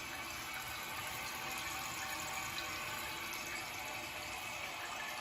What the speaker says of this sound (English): Seems to be draining okay, too.